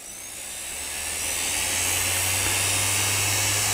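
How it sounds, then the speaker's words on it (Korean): A homemade grinder built from a hard disk drive, battery powered, spins up with a rising, close whine and steady hum that swells over the first couple of seconds, then holds. "그라인더가 작동을 합니다"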